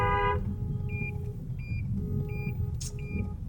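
Lagos street traffic with cars rumbling past and short, repeated car horn beeps sounding at intervals over a steady low engine drone, heard from nearby.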